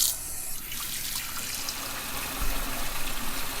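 Water gushes steadily into a cooking pot over beef pieces for Persian haleem, a continuous broadband rush that swells louder near the end, with no talking.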